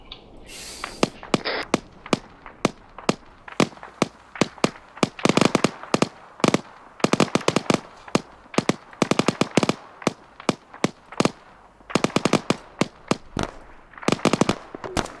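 Rapid gunfire from a squad battle in ArmA 3, a British airborne milsim section drill: dense bursts of sharp shots crack in quick succession for the whole stretch, loud and close, with no talk over them.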